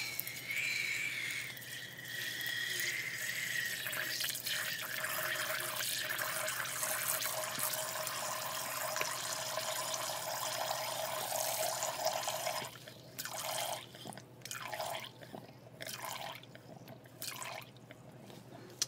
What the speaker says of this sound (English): So we're going to add water to it